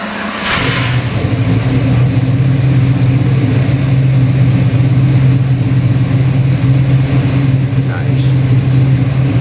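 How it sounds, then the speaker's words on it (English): A 1968 Dodge Coronet 440 stroker V8 with Chrysler 500 EFI runs on a dyno, holding a loud, steady, slightly high idle with a deep drone throughout, while a brief word is spoken near the start. "we got your 68 Dodge Cornet Chrysler 500 EFI engine on the dyno"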